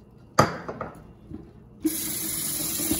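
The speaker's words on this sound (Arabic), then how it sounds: "هلا رح نغسل الرز" Rice for Lebanese stuffed zucchini is washed in a sink: a few knocks and clinks of a pot, then tap water gushes on and runs steadily, close and fairly loud.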